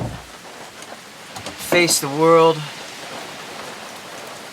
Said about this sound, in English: It is really raining out there.